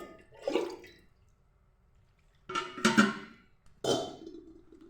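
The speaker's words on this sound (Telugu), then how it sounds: "తల మాంసం ఉంది కదా, దీంట్లో కొంచెం వాటర్ వేస్తానండి." Water poured over goat head meat to wash it, three separate splashing pours with quiet gaps between them, close and fairly clear with no speech.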